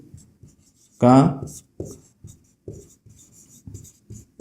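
A pen writes out a class 10 maths solution on surface area, making short scratchy strokes on paper, heard close between and under a person speaking.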